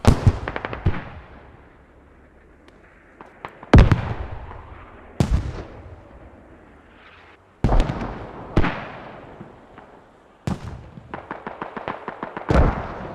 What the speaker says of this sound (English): mortars dropping in Verto?